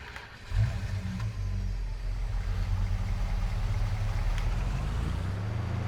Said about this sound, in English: Sounds like pretty much the standard truck sound